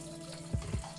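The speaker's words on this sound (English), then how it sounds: "when you choose to the spin one, the water comes out here" Water drains from the spin outlet of a Ramtoms twin tub semi-automatic washing machine, heard up close as a steady trickle with two brief, low gushing surges.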